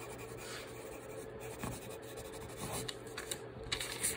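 A pen signs a name on paper during handwriting practice, giving soft close scratches and a few quicker, sharper strokes near the end, with no voices.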